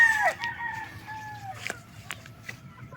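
A rooster crows nearby in a long, drawn-out call, followed by scattered clucks and faint farmyard noises over a low background hum.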